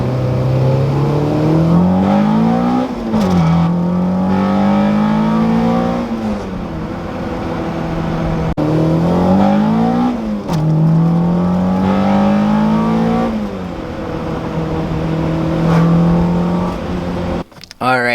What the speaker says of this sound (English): so you guys can hear the VTEC in this bad boy, because this one is like super loud